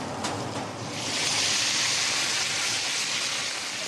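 Water goes into a hot pan of Indian curry with herbs, giving a steady rushing hiss that swells after the first second and stays loud and close until the end, with no voices.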